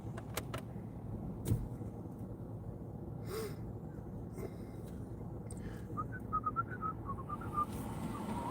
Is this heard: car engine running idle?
yes